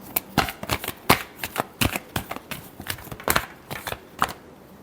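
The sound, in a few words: shuffling tarot cards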